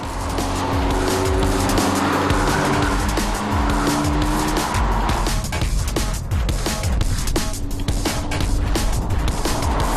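Red Opel Astra OPC in OPC mode with sport suspension, driven hard on a test track: a loud, continuous engine roar shifting through gears, with tire squeal and skidding running underneath for the whole stretch.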